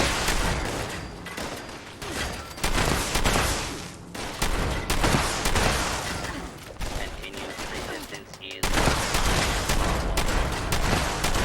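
Several players in Fallout 76 shoot at the same target, producing loud, sustained bursts of overlapping gunfire that rattle on almost without pause for over ten seconds, with voices faintly beneath.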